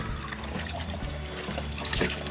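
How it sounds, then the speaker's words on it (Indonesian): Jengkol beans are scrubbed and rinsed under running water, a dense, continuous splashing and trickling with faint knocks of the beans being handled. "lanjut sambil dibersihin si kulitnya sambil dicuci gitu ya pakai air mengalir"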